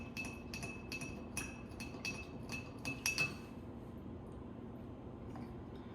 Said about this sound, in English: and we'll do a nice stir.